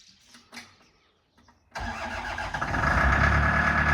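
An old Manitou telehandler's diesel engine cranks briefly after a few quiet knocks, then catches and settles into a loud, steady idle that rises slightly and holds, close by.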